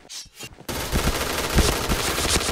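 T77 rifle firing in a shooting video game: a loud, rapid automatic burst of gunfire after a short lead-in, with shots running together into a sustained rattle.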